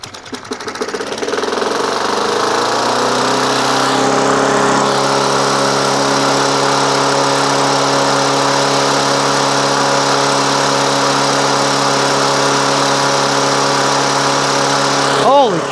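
A Yard Machines by MTD push lawn mower engine with a bent crankshaft starts, then runs steadily at a droning idle with a slight rhythmic vibration, close and loud, cutting off at the end.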